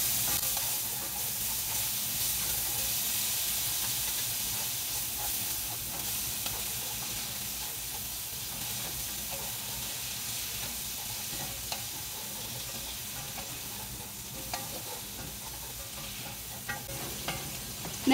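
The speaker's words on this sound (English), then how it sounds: "Now I'm just going to saute this until it's softened." Steady, soft sizzle of food sautéing in butter inside an Instant Pot, a continuous hiss with faint stirring clicks and no talking.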